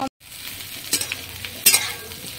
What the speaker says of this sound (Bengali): তোমার ইঁচড় দিয়ে আলু দিয়ে পেঁয়াজ দিয়ে সুন্দর করে ভেজে নিলাম।